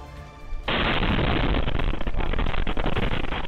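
Fireworks blasting during a failed disposal operation in Zamboanga City set off a sudden loud, dense roar of explosions and crackling that starts after a quiet moment and continues without a break to the end.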